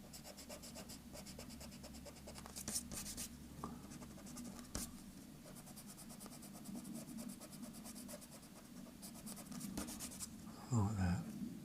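Eraser nibbling unwanted lines out of an airbrushed artwork, giving soft scratchy rubbing strokes close up, steady and continuous, with a brief louder scrub near the end.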